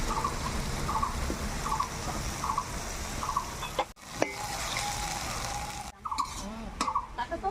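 Chopped tomatoes hit a pan of fried garlic, spices, turmeric and chili powder for a bitter gourd dish, giving a steady, close sizzle with light stirring scrapes throughout.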